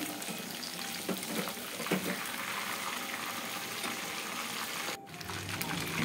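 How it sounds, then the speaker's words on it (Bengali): Large chicken pieces for chilli chicken fry in oil, making a continuous hissing sizzle at a moderate level, broken by a couple of soft stirring knocks. "তো সবগুলো মাংস আমি এইভাবে ভেজে নেব।"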